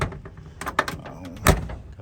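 The door of a 1985 Chevrolet C10 pickup truck shuts with a solid thud, a short clunk preceded by quieter latch and handling noises, close and fairly loud, with no speech over it.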